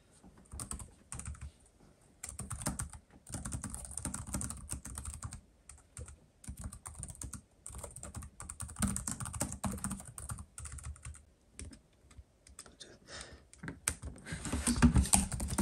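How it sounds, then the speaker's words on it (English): Rapid, uneven clatter of keys being typed on a Lenovo ThinkPad TrackPoint Keyboard II, close by, with short pauses between bursts and no voices. "yep, it's already typing"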